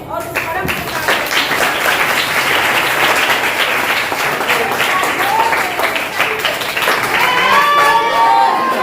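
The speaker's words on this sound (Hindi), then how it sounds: "सभी लोग जोर से ताली बजाएं" A crowd of devotees at a Hanuman devotional gathering in Lakhimpur Kheri claps loudly and continuously for several seconds, with cheering voices and some tonal sounds rising beneath the clapping.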